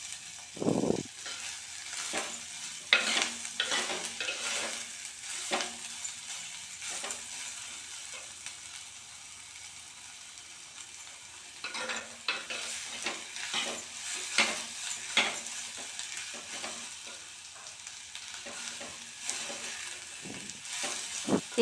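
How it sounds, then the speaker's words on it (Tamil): Beetroot with onion and tomato sautéing in a pan for a beetroot gravy, a soft steady sizzle punctuated by repeated spoon scrapes and stirring clatters, close and fairly quiet, no voices. "பீட்ரூட் எல்லாமே வதக்கி நல்லா வதக்கி வந்துருக்கும் பாருங்கள்"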